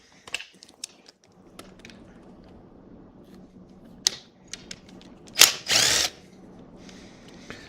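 A small 12 volt power gun spins up in two short, sharp whirring bursts while removing coolant flange bolts from an engine head, preceded by scattered metallic clicks and clanks of tools nearby.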